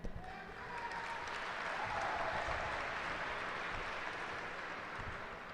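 A crowd at a high school graduation ceremony breaks into applause, a dense, steady wash of clapping that rises briefly and holds for several seconds with no clear voices.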